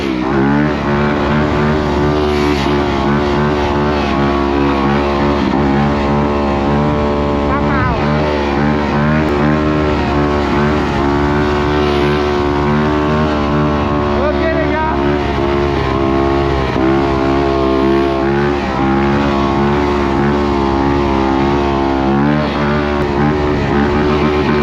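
A four-stroke motocross dirt bike rides through city streets, its engine droning loudly and continuously with rising and falling revs, close and dominant throughout.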